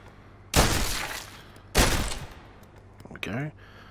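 Two sharp, loud pistol shots about a second apart in the VR game The London Heist, each with a ringing tail, followed by a brief metallic clatter; people talk around them.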